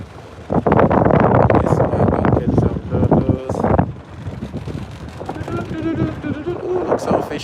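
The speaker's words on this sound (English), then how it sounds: "Ooh, it's windy." Wind gusting on open water during a boat outing, heavy buffeting rumble against the microphone that swells loud, eases, then returns, with a voice speaking briefly underneath.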